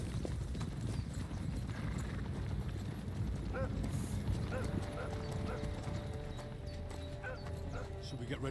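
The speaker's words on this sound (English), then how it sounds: "we have the same first-person horse riding" Steady clip-clop of horse hooves during first-person riding in Kingdom Come: Deliverance 2, a continuous rhythmic gait under someone talking.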